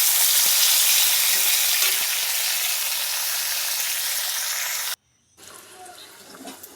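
Spiny gourd and potato pieces fry in hot oil with a steady, close sizzle that holds for several seconds, then stops briefly before quieter kitchen clatter and stirring sounds return.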